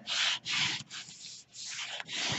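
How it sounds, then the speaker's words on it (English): Paper being burnished onto a mini album page, a close dry rubbing scrape repeated in five firm strokes with brief gaps between them and no talk. "I'm going to make sure I burnish it real well"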